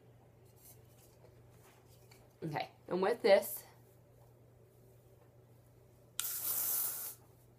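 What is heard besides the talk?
hairspray being sprayed on hair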